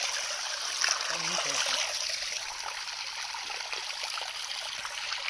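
A hillside stream on a hill above Chobari village trickles and babbles steadily, a faint continuous wash of water with a brief splash near the start, heard alone outdoors.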